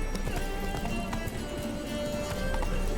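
Hooves of Geralt's horse Roach clip-clop at a steady gallop in The Witcher 3: Blood and Wine, a rapid, continuous rhythm under game ambience, with occasional faint voices.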